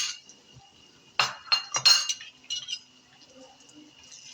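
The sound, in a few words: spoon clinking while mixing spices in a pot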